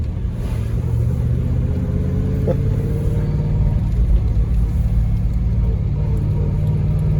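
A two-door Range Rover Classic cruises through a Victorian-era city neighborhood, its engine a steady, loud low rumble with road noise throughout and one brief higher whine partway in, no voices.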